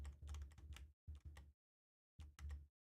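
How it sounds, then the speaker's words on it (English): Rapid keyboard-style clacking from Undertale-style game text, coming in quick bursts of dense clicks with short gaps between runs, fairly loud and close with no voices over it. "The keyboard clacks."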